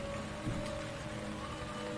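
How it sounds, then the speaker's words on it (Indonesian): Heavy night rain pours steadily, a dense even hiss of drops on surfaces with no pauses and no voices. "Malam itu hujan lebat."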